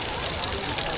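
Cold water pours down at Sahastradhara in Uttarakhand over someone bathing, making a loud, steady, dense rush of splashing with a voice faintly underneath.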